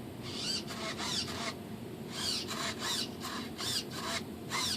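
A rudder servo in a Dynaflite Bird of Time RC glider whines in repeated short bursts of high buzzing as it drives to full position, over a steady low hum.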